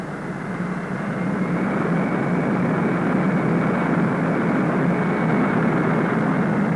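A B-58 Hustler supersonic bomber taxis toward the runway, its jet engines giving a loud, steady roar that swells slightly after the first second and holds constant, with no voices.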